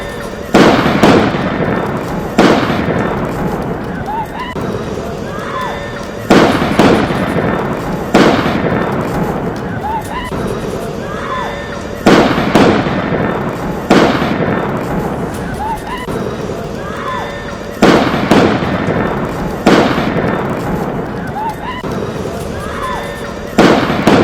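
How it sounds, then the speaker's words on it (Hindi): Repeated loud bursts of gunfire ring out at the Baisaran picnic spot during a terror attack. The sharp cracks come in clusters every couple of seconds, echoing across open ground, with faint voices underneath. "बैसरन पिकनिक स्पॉट पर पर्यटक घूम रहे थे, तभी वहां पर फायरिंग होने लगी।"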